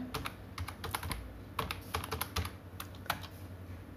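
A computer keyboard being typed on to enter a name in billing software: rapid, irregular key clicks close by, continuing steadily for the whole stretch with no talking.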